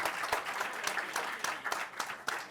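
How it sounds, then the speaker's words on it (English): Applause at a launch event with cricketers MS Dhoni and Sanju Samson, a fairly faint crowd clapping wash with a few louder claps punctuating it at irregular intervals. "Big round of applause for these amazing gentlemen."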